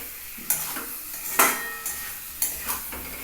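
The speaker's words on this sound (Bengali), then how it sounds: "আবার গ্যাসটা বাড়িয়ে আবার কষিয়ে নিচ্ছি" Egg curry with boiled potatoes being stir-fried in a pan over a turned-up gas flame, a soft sizzle under a handful of distinct spatula scrapes and knocks against the pan.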